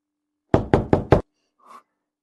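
Four sharp, loud knocks on a door in a home, evenly spaced in quick succession, followed by a brief faint rustle.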